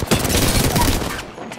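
Rapid bursts of gunfire from a shooter video game, loud and dense, with shots tumbling over one another for about a second before the firing thins out.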